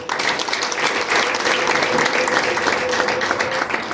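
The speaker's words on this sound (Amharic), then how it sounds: "እልልታና ጭብጨባ ለጌታ" A church congregation at an Easter service bursts into loud, sustained applause mixed with a high wavering ululation, a dense crowd sound with no pause.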